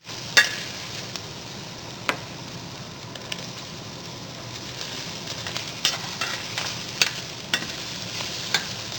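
Garlic and onion sauté in a pan with a steady, moderate sizzle and a few scattered clicks of stirring.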